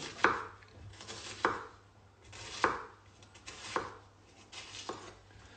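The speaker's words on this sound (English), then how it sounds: "So don't cut the whole way through, keeping your onion intact. You're just making slits down." A knife cuts slits down into an onion without slicing all the way through, giving five evenly spaced crisp chopping strokes about a second apart. They are close and fairly quiet, with a low hum between them and no talk.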